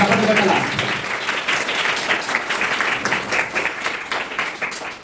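An audience at a village Vacation Bible School gathering in Araku claps steadily for people invited onto the stage, a dense, sustained round of applause with a voice heard over it.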